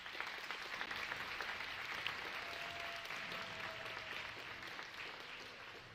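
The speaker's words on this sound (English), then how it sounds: "So candidates, if you'd please give a round of applause to your families as well." Audience applause for graduating candidates' families at a hood ceremony, a steady, fairly faint wash of many hands clapping that continues throughout without a break.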